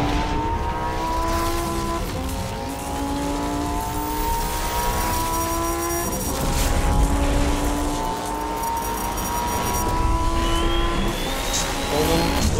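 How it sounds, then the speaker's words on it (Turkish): Lamborghini V10 engine screaming at high revs, with sustained loud wailing tones that rise and fall through gear changes, plus brief tire squeal. No voices are present. "V10'un çıkardığı ses."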